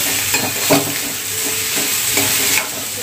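Chopped onion sizzles steadily in hot oil for a Marathi chole chana bhaji, with a spoon scraping and stirring through it in a few distinct strokes over a constant frying hiss, close and fairly loud.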